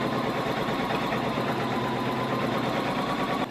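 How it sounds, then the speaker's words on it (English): A sewing machine stitches steadily around the curved edge of a fabric face mask with a fast, even mechanical whir and rapid needle patter, close and continuous, with no talking. "I'm just going to sew all the way around that curved edge."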